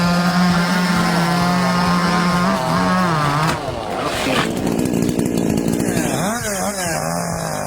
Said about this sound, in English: your trusty Husqvarna 371 XP slices through it like butter